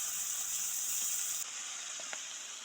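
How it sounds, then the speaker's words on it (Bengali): Small fish hissing and crackling in hot oil, a steady close sizzle that drops in level partway through and is joined by a few faint clicks. "এই ছোটো মাছ, পোনা মাছ, সেইগুলো এবার ভেজে নেব। এই তেলের উপর দিলাম।"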